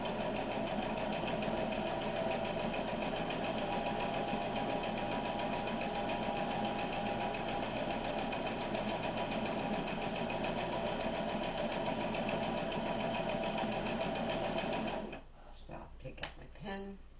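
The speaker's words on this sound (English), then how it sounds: "I'm just going to sew along that 1/4 inch line" A sewing machine runs steadily, stitching a pinwheel quilt block along a quarter-inch line in a long, even whir, then stops near the end, leaving a few light clicks and handling sounds.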